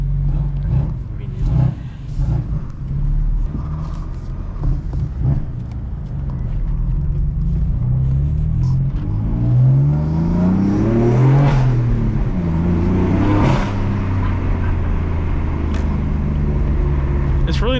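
A 500 HP BMW M4 accelerates on a night drive, its engine note rising in sweeping pitch climbs with gear changes, loud and close, while people talk over it at times.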